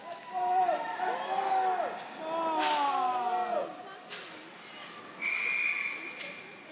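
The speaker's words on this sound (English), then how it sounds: "And they finally blow the whistle." A referee's whistle rings out at an ice hockey game, several sharp warbling blasts followed by a steadier tone, over crowd noise and rink sounds.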